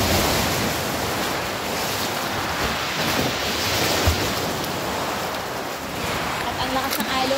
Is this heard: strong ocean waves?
yes